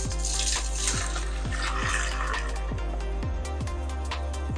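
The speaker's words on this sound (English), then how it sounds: "We'll set it up, grab this guy and just pour it in the pot." Homemade bone broth poured through a small strainer into a pot: a steady splashing liquid pour with rhythmic repeated clunks or knocks, close and fairly loud, with no talking.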